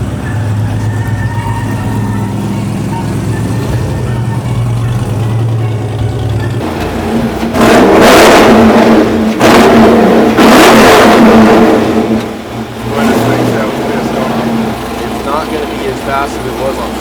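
Ford F100 trophy truck idling low, then its engine roars through several hard revs as it drives off, loud and close with talk over it.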